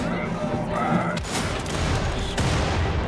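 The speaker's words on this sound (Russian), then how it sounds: "Они заколебали гренами закидываться." Grenade blasts and gunfire from the shooter video game Wolfenstein: The Old Blood, with sharp bursts and booming thumps packed together, loud and close, alongside someone talking.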